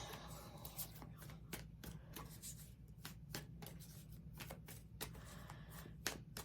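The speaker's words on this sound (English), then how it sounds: "let's just shuffle the cards here" A deck of tarot cards is shuffled by hand, giving a quiet, steady run of crisp riffling and slapping strokes at an even rhythm with no voices.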